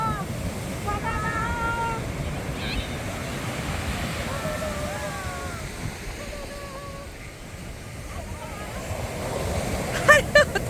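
Ocean waves wash steadily onto a beach in Vietnam, a broad continuous surf roar with light wind noise, while people chat nearby over it.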